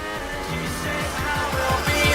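Toro Rosso Formula 1 car in a video game racing flat out down the main straight, a steady high-pitched engine whine with a rhythmic series of rising gear-shift sweeps, loud and continuous.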